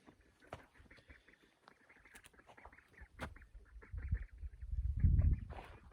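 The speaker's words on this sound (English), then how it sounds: "I have 30 chicks." Young hatchery chicks and other fowl call in a small flock, with a scatter of peeping and honk-like cries that build and grow louder toward the end.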